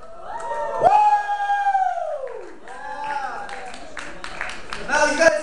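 Crowd at a Korean Student Association event cheering, whooping and clapping loudly for several seconds, with a long rising howl-like shout near the start and a fresh burst of cheers at the end.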